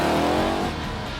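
A 1967 Mercury Cougar V8 Interceptor making 850 horsepower roars at high revs as its tires boil in a burnout, a dense, continuous engine blare with gritty tire noise that eases slightly toward the end.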